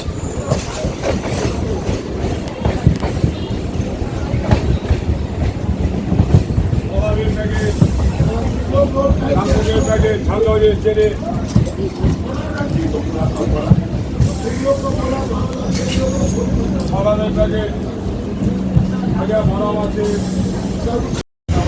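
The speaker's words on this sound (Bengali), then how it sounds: "বন্ধুরা ট্রেন এখন আমাদের চলেছে টালা স্টেশনে।" A Naihati-Ballygunge local train runs steadily toward Tala station in Kolkata, with a continuous rumble, clattering wheels and faint squeals heard from inside the carriage over about twenty seconds, along with some background voices.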